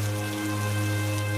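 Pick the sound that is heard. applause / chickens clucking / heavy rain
heavy rain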